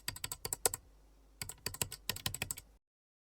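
Quick, close keystrokes on a computer keyboard in two brisk bursts separated by a short pause, clicking crisply against silence.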